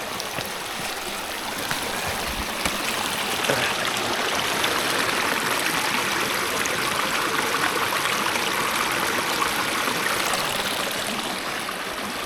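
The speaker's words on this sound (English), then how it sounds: "Take you guys over to the little stream that we've been getting our water from." A small forest stream in the Smoky Mountains flows steadily, with continuous bright burbling and trickling water close by and no voices.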